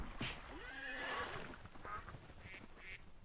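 A horse in a Minecraft-style survival crafting game lets out a single loud whinny near the start, followed by a few shorter snorts and grunts, with no speech.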